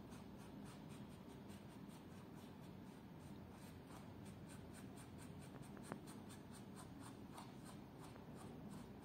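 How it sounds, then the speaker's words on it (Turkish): A pencil is drawn across paper in a steady stream of soft scratchy strokes, sketching the nose of a mouse figure in a children's play workshop. The strokes continue close and fairly quiet throughout, with no talk. "Kalem yardımıyla burun çizeceğiz."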